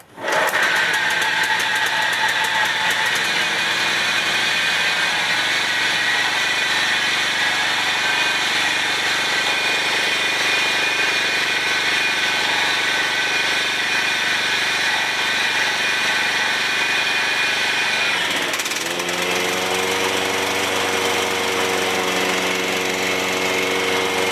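A John Deere 14 SB walk-behind mower's small engine runs at a steady, loud drone with no talk, then drops in pitch near the end as the revs settle to a lower idle.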